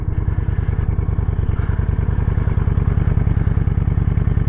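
A brand-new 2024 Honda Shadow motorcycle idles close by with a low, steady, pulsing thump, its regular beat continuous and loud throughout.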